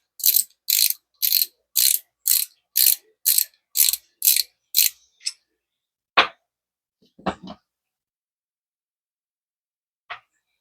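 An Okuma Avenger 3000 spinning fishing reel having its spool taken off gives a rapid run of about ten evenly spaced ratcheting clicks, close and crisp, followed by a few scattered single clicks and a lone faint tick near the end.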